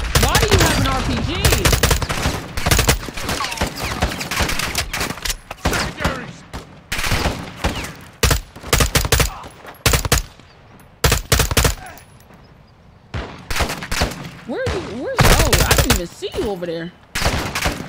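Call of Duty: Modern Warfare II gunfire crackles in dense, loud bursts of rapid automatic shots, with short pauses between volleys, and a voice speaks briefly amid the shooting.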